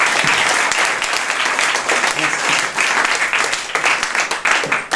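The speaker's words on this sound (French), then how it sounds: "Sous vos applaudissements, vous pouvez l'applaudir" A theatre or cabaret audience applauds an acrobat introduced as Madame Hemkempt, a dense, steady wash of many hands clapping throughout, loud and close, with a few sharper claps standing out.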